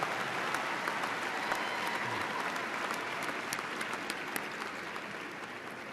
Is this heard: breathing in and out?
no